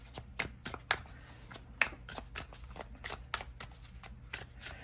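Oracle cards from a witchy wisdom deck are shuffled and handled up close, giving quick riffling flutters and soft slaps in uneven bursts, quiet and without talking.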